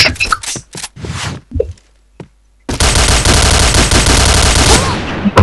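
Video game gunfire bursts out as a loud, dense rapid stream of shots after a few shorter blasts and a brief pause, like an automatic weapon fired continuously.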